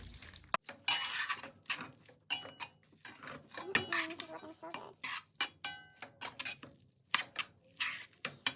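A utensil stirs cooked pasta into salmon pesto in a pan, giving repeated close metallic clinks and scrapes in an irregular rhythm, with soft talk in between.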